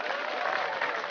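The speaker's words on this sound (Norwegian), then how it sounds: "Applaus!" A brief burst of studio audience applause on a chess-themed quiz show, steady and fairly faint with a muffled, narrow sound, over about a second.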